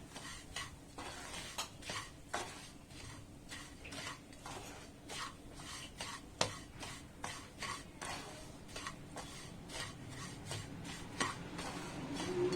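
A spoon stirs semolina (rava) roasting in ghee in a pan for rava laddu, with a steady run of scraping, clinking strokes against the metal and a faint sizzle beneath.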